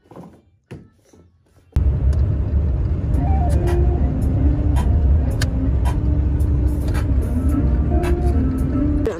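A car pulls up and idles at a McDonald's, a thump followed by a loud, steady engine rumble close by, with scattered knocks and faint voices underneath.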